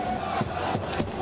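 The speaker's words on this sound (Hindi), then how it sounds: "वहां फैंस ने उनका जोरदार अंदाज में स्वागत किया" Football fans welcoming Lionel Messi in Paris, a loud crowd that roars and chants steadily, with a few sharper shouts rising above the continuous noise.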